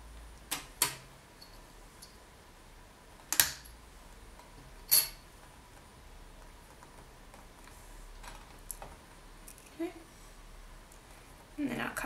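A blade slicing through a polymer clay cane, giving a few sharp, brief clicks and taps on a work surface with quiet gaps between them, alongside faint background talk.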